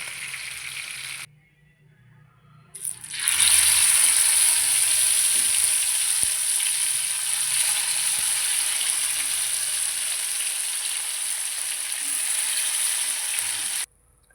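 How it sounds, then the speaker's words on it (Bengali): Pieces of red-masala fish spit and crackle loudly in a hot frying pan, a dense steady sizzle that starts after a short quiet gap, runs on for about ten seconds, then cuts off abruptly. "এখন ফাটাফাটি চলছে, তো মাছ ভাজা হচ্ছে,"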